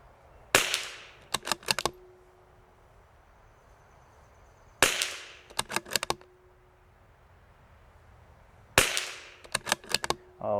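Three sharp .22 rimfire shots from a CZ457 rifle firing SK Standard Velocity ammunition, each a crisp crack followed by a quick cluster of ringing echoes or target hits, spaced about four seconds apart with quiet between.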